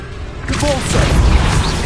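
A Repulso spell cast in the Hogwarts video game lands as a booming burst with a rushing whoosh, loud and close, over a low rumbling bed.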